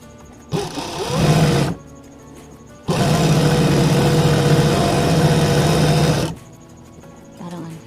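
A sewing machine edges the hem of a skater skirt in two close, loud runs, a short burst of about a second and then a longer steady stretch of about three and a half seconds, with quiet pauses between.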